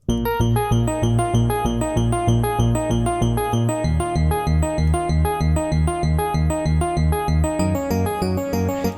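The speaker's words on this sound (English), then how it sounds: "The patch is called Mo Cheesy, and it's a combinator patch that's from the factory sound bank." The Mo Cheesy combinator patch, an 80s e-piano synth sound from a factory bank, playing a steady pulsing run of bright repeated chords with a bass line shifting partway through, loud and continuous for nine seconds with no talking.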